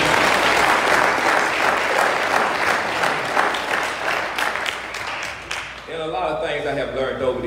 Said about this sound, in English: we just like to give him a hand clap of praise for being here